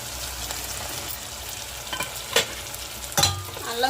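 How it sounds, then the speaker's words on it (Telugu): Mixed vegetables for a vegetable biryani sizzle in a hot pan as they are stirred, with a constant crackling fry and a few sharper scraping strokes, close up and without talk. "వెజిటేబుల్ మొత్తం అయితే లైట్గా అయితే ఫ్రై అయినాయి కదా"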